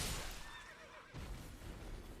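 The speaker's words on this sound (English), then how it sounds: "I also killed his horse." A horse in the video game Elden Ring lets out a faint neigh as it is killed, set against a harsh, noisy game backdrop with a sudden burst partway through.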